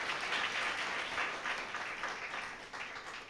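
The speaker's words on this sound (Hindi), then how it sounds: "तालियां आपके अटल जी के लिए हैं।" An audience at a religious discourse applauds steadily for Atal ji, a dense, sustained wash of clapping that fades slightly toward the end, with no speech over it.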